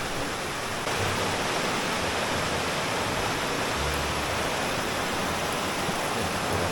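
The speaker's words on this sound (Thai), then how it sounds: "ตรงนี้ก็เป็นน้ำตกนะครับสวยเลย" A waterfall in Chae Son National Park, Lampang, roars as a steady, dense rush of falling water, loud and close, with no talk over it.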